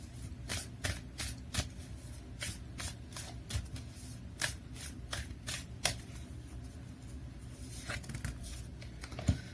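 A deck of Oracle of the Fairies oracle cards is shuffled by hand in a steady run of soft snaps and riffles, close and fairly quiet, with no talking.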